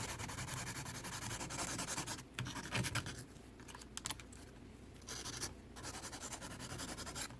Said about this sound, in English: But you can go ahead and keep filing that.